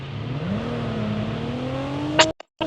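Car engine in COD Mobile, a steady droning hum rising gradually in pitch as it revs, ending in a short sharp clatter and abrupt cutoff.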